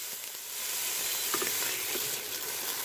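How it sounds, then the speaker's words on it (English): Onion and garlic sizzle in hot oil in a pan, a steady close-up frying hiss with a few faint stirring clicks and no talk. "I've heated the oil in the pan and in the pot, and I've added my onion and my garlic"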